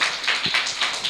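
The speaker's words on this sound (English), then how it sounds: "Big clap for Nitin Bhaiji." At a school English Day, students give a burst of quick, even hand claps in a close, steady rhythm, filling the short moment without voices.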